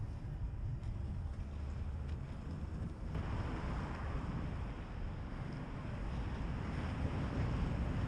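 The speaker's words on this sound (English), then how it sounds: "And the wind wasn't helping either." Cold wind buffets a microphone while skateboarding along bike lanes, a constant low roaring rumble that fills the whole stretch without letup, loud and close.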